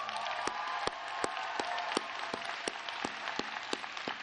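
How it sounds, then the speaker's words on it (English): Graduates at a high school graduation ceremony give a round of applause, heard as a soft, distant wash of clapping with a few sharp individual claps standing out at regular intervals. "Graduates, would you please show them your appreciation with a big round of applause?"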